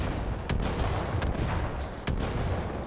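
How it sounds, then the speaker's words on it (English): Fireworks and pipe-bomb style explosions in the video game Far Cry 5, a steady run of loud crackling blasts and booms with sharp bursts repeating over a few seconds, no voices. "I can make even better fireworks."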